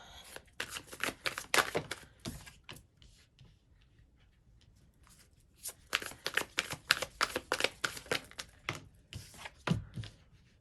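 Tarot cards being handled, shuffled and drawn for a reading, a close run of quick papery flicks and riffles in two bursts separated by a quieter pause, with no talking.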